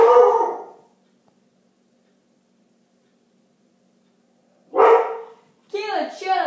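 A few loud, close barks and a howl-like yelp separated by a long silence, with a voice speaking near the end.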